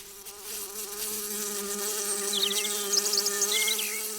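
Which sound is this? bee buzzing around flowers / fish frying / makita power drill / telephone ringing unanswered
bee buzzing around flowers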